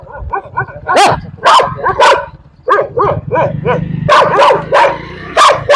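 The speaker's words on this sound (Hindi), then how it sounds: "हमारे पीछे कुत्ता लग गया है बाइक के।" A dog barks repeatedly and loudly in quick bursts while chasing a motorbike at midnight through a town, the barks close and layered over the low steady rumble of the bike's engine.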